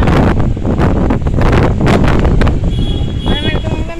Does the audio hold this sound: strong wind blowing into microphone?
yes